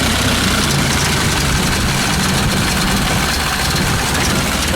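A 1931 Ford Model A huckster delivery wagon idles with its side-pipe exhaust, a steady, loud, close rumble that keeps an even low throb throughout with no voices.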